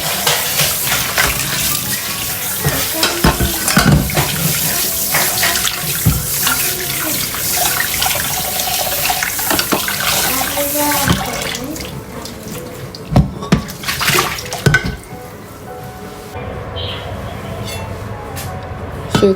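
Running tap water rinses pork liver in a sink with a close, loud, continuous splashing gush. Handling sounds and clunks join in toward the end, and the water flow eases slightly.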